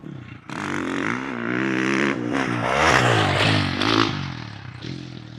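Dirt bike engine throttled during a motocross tire tap, a revving motor rising and falling in pitch with a brief blip, close and loud, with scraping and clatter from the track.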